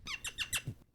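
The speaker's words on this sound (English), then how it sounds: "Squeaky pop. Can't beat it." A cork pulled from a bottle of Ardbeg whisky, giving a run of three or four close, sharp squeaks that end in a soft low pop, heard near and alone with no talk.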